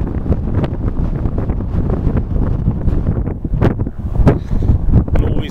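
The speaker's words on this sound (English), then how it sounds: "It refreshes you, not least because of the cold wind that is blowing." Cold wind on a granite-strewn Devon ridge, buffeting the microphone as loud, gusty, rumbling noise that carries through the whole span.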